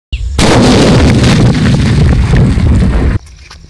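A large naatu vedi country firecracker blasts in a village setting, a loud sustained roar of explosion lasting about three seconds before cutting off, with no talk over it.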